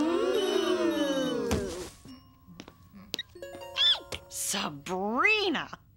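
A cartoon cell phone rings in a classroom, giving a string of bright electronic chimes and warbling, melodic ring tones in short bursts, fairly close, with gaps of quiet between them.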